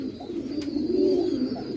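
Rangdar and Bhatia pigeons coo close by, a soft, low, throaty rolling call that swells and fades over a couple of seconds, with no talk.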